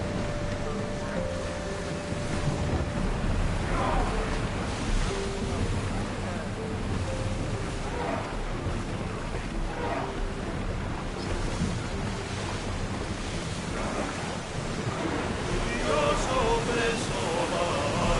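A ship sails on the open sea in Assassin's Creed Odyssey, with continuous waves, surf and wind rushing around the hull, loud and steady, with a few faint tones and voices mixed in.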